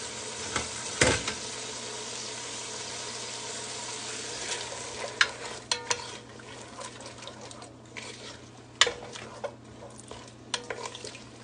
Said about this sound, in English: So I have in here a 1/4 cup of cooking oil. I have my onions and my minced garlic.